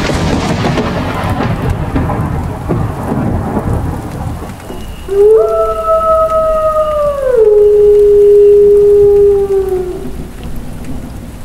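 Heavy rain pours at night with a dense steady hiss, and a long wavering howl rises over it midway before fading.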